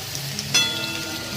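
Potatoes frying in a pan on a home stove give a steady, close sizzling hiss, with a brief sharper crackle partway through.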